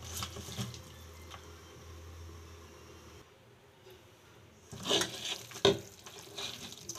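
Moor kalai greens being mixed with oil by hand while preparing a rohu fish bharta, giving soft wet squelching and rustling close up, with a few sharper slaps and clicks near the end.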